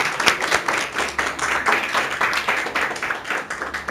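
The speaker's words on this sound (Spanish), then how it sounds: "le dan una gloria al Señor, un aplauso al Señor" Church congregation applauds for the Lord after a sermon, a fairly close, uneven burst of many hands clapping with sharp individual claps standing out, continuing steadily to the end.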